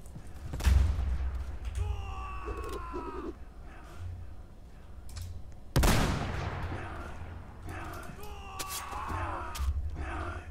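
Gunshots in a Roblox zombie survival game, two sharp loud cracks several seconds apart amid busy game noise and bird-like chirps.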